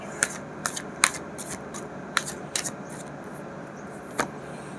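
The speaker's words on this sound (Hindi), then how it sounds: "एक कार्ड और लेना पड़ेगा।" Tarot cards being handled and drawn from a deck, heard as a few sharp, separate card snaps and flicks spread across the clip, close and fairly quiet, with no talking.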